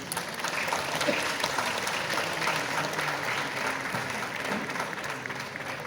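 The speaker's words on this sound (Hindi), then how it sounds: "आप ही जोर से तालियां बजा दीजिए" Loud, sustained applause from a seated audience at a healthcare awards ceremony in a large hall, a dense continuous wash of many hands clapping with faint crowd murmur underneath.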